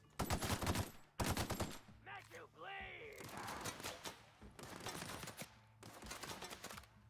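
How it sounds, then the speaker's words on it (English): Shotgun blasts in the video game The Outer Worlds come in sharp, loud bursts near the start and again toward the end, with someone talking over the middle stretch. "Shotgun, not impressed."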